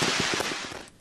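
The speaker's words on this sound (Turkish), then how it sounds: "Kaza arada olsa havai fişekler imha edilmiş oldu." Fireworks go off by accident in a fast, rapid-fire crackle of bangs that sounds like a burst of gunfire, loud and dense at first and then thinning out, with no voices.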